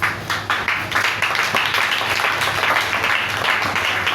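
A church congregation breaks into applause during a French-language sermon, a dense, steady wash of many hands clapping that swells at the start and carries on evenly for a few seconds.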